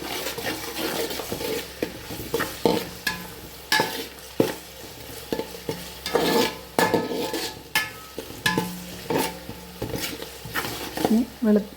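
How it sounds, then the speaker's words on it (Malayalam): Vegetable fried rice stirred in a hot pan with a spatula, scraping in repeated irregular strokes over a steady sizzle, close and fairly loud, with no voices. "നല്ലപോലെ ഒന്ന് ഇളക്കി കൊടുക്കാം"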